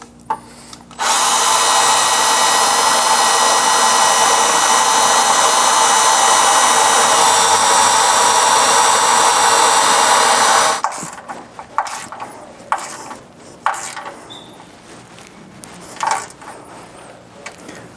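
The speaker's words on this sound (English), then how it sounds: "I might just drill out this hole a little bit" A power drill enlarging a hole in a 2025 GMC during an air suspension compressor install whines steadily for about ten seconds, loud and close, then stops, followed by scattered clicks and handling noises.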